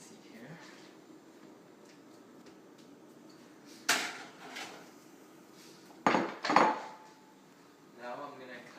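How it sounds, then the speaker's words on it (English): Eggs dumped into a pan make sharp clattering knocks of metal on metal, a few loud hits spaced apart over quiet kitchen background with faint handling noises between. "I'm gonna dump the eggs into the pan."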